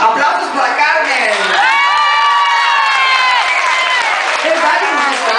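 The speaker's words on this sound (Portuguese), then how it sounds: "Aplauzul la Carmen!" A live concert audience applauds and cheers loudly and continuously, a dense roar of clapping with shouts and whoops layered on top, heard close up.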